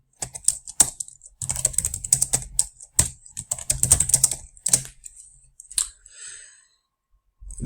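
Bursts of rapid keyboard typing with short pauses between runs, close and crisp, no voices.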